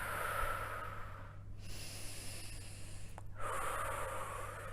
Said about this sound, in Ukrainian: Нормалізуємо дихання. Два-три видихи, вдихи.